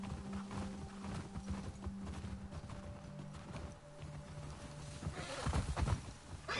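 Horse hooves clip-clop steadily while riding through cold terrain in The Last of Us Part II, with an occasional whinny; the steps are loud and continuous, and wind and ambient game sound fill in behind.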